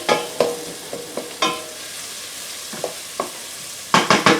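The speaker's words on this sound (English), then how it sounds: "We're going to simmer it down just a smidge." Tomato paste with onion and garlic cooks in a hot pan, with a soft sizzle under intermittent spoon scrapes and stirring strokes, ending in a quick run of louder clattering stirs.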